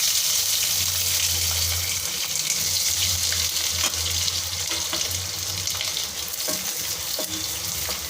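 Five sliced onions frying in a pan for onion biryani give a steady, close sizzle over a low cooking hum, with faint stirring and no talking.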